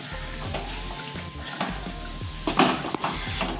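Fried chicken stirred into sizzling masala in a pan for Kasaragod-style biryani, with a steady close sizzle broken by scraping stir strokes and a few louder clatters of the spoon against the pan near the end.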